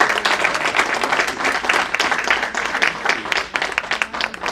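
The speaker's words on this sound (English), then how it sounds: "can you give a big round of applause to Congressman Danny Davis?" An audience applauds Congressman Danny Davis at a community center announcement, a loud, dense burst of clapping that holds steady for several seconds before thinning slightly at the end.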